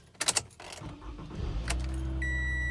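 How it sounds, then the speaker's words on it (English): A 2012 Toyota Camry: keys jangle briefly, then the engine cranks and catches, settling into a steady idle hum while a dashboard chime begins to sound. "and we turn our engine on"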